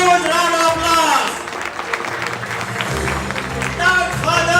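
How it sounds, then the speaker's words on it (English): Audience applause at a debate festival swells in as a crowd claps, close and fairly loud, mixed with a presenter's amplified voice that carries over the clapping. "let us all welcome him also with a huge round of applause."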